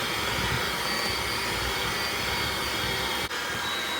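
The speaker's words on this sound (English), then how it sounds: "while the mixer is on low, we're going to slowly add in 1 16-ounce box of powdered sugar that's sifted." An electric stand mixer runs on low while blending sifted powdered sugar into chocolate cream cheese frosting, a steady close whirring drone with no talk, briefly dipping once near the end.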